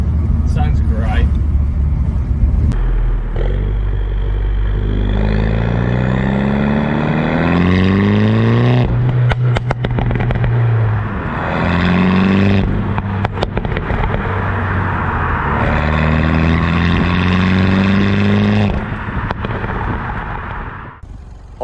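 A loud, close Mini John Cooper Works F56 engine roars and climbs through several gears, each rev rising then dropping at the shift, with a raspy aftermarket exhaust note and crackles between.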